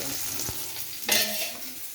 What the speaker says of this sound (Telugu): ఇప్పుడు మళ్ళీ రెండు టేబుల్ స్పూన్ నూనె వేయాలి ఆకు వేయించుకోవాలి కదా